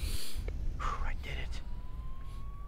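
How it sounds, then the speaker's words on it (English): An ambulance siren in the Spider-Man 2 video game wails faintly in the distance as a thin rising tone, mixed with soft breathy game effects and ambient noise. "Sounds like an ambulance is coming."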